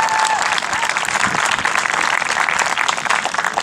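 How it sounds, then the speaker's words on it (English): A large graduation ceremony crowd applauds steadily, a dense wash of clapping holding at an even, loud level throughout. "let's give everyone, yourselves included, a round of applause."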